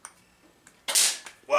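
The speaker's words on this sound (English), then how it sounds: "I heard something pop when I plugged it in." A capacitor pops inside an Exidy Tail Gunner 2 arcade machine just after it is plugged in. A loud, sharp broadband burst follows a quiet stretch, trails off briefly, and a second noisy burst comes near the end.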